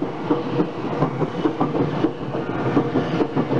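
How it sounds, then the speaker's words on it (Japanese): A four-car Senboku Rapid Railway Senboku Liner, a 7000 series train, rolls past a level crossing near Abikomae station with steady wheel rumble and rhythmic clickety-clack over the rails, heard at moderate volume from the roadside with no talking. "ちょうどですね、仙北ライナーが通過していくところですね"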